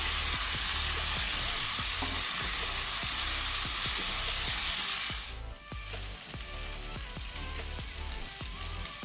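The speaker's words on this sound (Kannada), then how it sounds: "ಪುನಃ ಒಂದು 2 to 3 ಮಿನಿಟ್ಸ್ ಫ್ರೈ ಮಾಡುವ." Pomfret fish fries on a tawa over a medium flame with a dense, close sizzle and scattered crackling pops, easing slightly softer partway through.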